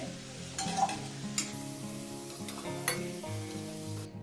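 Potatoes fry in oil with salt and turmeric for a banana flower dish, giving a soft, steady sizzle with a few utensil clinks and stirs over a low background hum.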